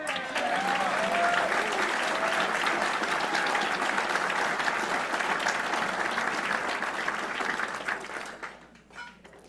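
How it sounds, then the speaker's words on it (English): Sustained audience applause at a golf classic charity event greeting a football champion, steady and loud from a large crowd of many hands, fading out near the end. "A round of applause for Eli Manning."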